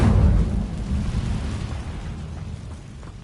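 A burst of fire from an Incendio spell cast in a video game, a loud low rumbling whoosh at the start that slowly fades under a steady roar, with no talking.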